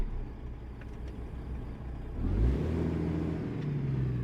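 A modded truck engine in the American Truck Simulator game runs at a low, fairly quiet idle, then swells and rises in pitch as it revs and accelerates midway, holding a steady drone afterward.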